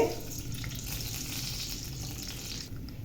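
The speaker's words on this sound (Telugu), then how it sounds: "ఇవి చిట్టుపట అంటున్నాయి కదా" Tempering spices crackling and spluttering in about two tablespoons of hot oil in a kadai, a steady dense sizzle with fine pops throughout, close and fairly loud, no voices.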